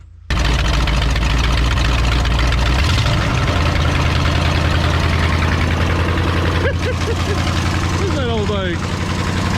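A 1971 Ford F100 pickup's 360 V8, long abandoned, catches after cranking and settles into a loud, steady, rough idle close by, with a man's brief question spoken over the running engine.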